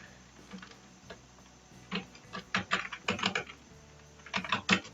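Keys clatter on a computer keyboard as text is typed into a PowerPoint text box, in close, uneven bursts of quick clicks that grow denser toward the end.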